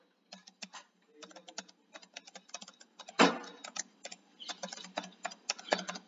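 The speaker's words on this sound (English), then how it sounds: "type the registered email address" Clicky keystrokes on a computer keyboard as an email address is typed into an ERP login page, irregular bursts of taps with brief pauses and one harder key strike midway, close and clear in a quiet room.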